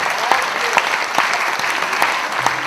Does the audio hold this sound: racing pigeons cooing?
no